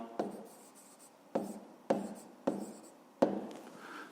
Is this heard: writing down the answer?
yes